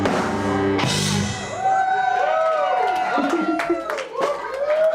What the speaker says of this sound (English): Seriously, what a great crowd we have here tonight